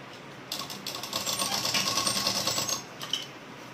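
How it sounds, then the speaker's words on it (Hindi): Sewing machine stitching blouse fabric, a fast steady mechanical whirr running for about two and a half seconds, starting and stopping abruptly, close and fairly clear with no voices. "उसके बाद फिर से सिलाई लगाएंगे, इस तरह करके सिलाई लगा लेना है।"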